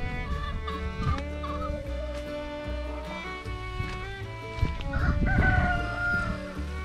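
Rooster crowing and chickens clucking on a goat and poultry farm, several drawn-out crows rising over continuous clucking and background farm noise.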